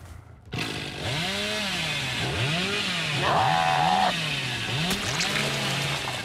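A chainsaw in the horror game Dead by Daylight starts up and revs in repeated rising and falling surges over a steady engine drone, loud and close with no talking.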